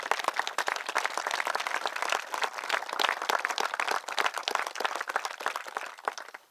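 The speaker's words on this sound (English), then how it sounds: "May we have a round of applause for our families," Applause from an audience at a Veterans Day bell tower dedication ceremony, a steady dense clapping that holds throughout and tapers near the end, with no voices over it.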